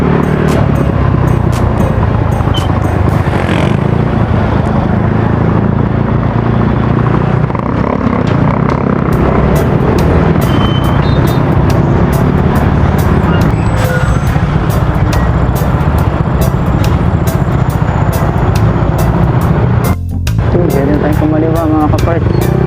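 Road traffic with cars and trucks in Laguna, a loud, constant rumble of engines with sharp clicks and a brief brake hiss, heard up close from a moving vehicle.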